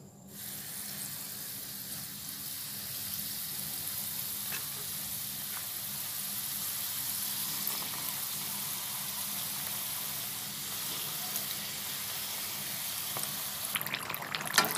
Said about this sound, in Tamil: சூடு வந்த உடனே நம்ம ரெடி பண்ணி வச்சுருக்க சம்சாவை இதில் போட்டுக்கலாம்